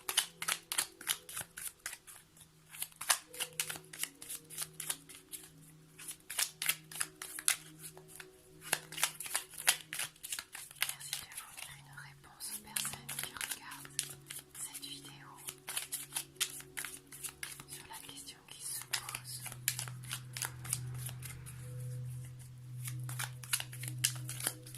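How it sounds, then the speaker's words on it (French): A deck of tarot cards shuffled close by in repeated quick riffling, flapping bursts, with someone speaking softly over them. "concentrez-vous bien pendant que je bats un peu le jeu"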